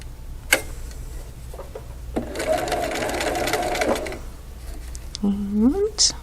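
A sewing machine stitching a quilt piece for a double wedding ring pattern runs in a steady burst of about two seconds, with clicks, handling noises and a short whine near the end.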